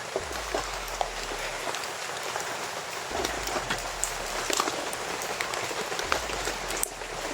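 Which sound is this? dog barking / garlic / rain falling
rain falling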